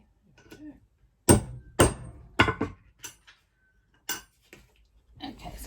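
Metal rivet hammered into a tag, a few sharp separate taps and clanks with irregular spacing, close by in a quiet room, with faint rustling between strikes.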